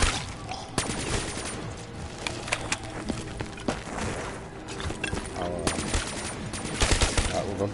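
Busy gunfire from Call of Duty Zombies on the Verrückt map, with rapid bursts and single shots crackling throughout at a loud level and brief voices now and then.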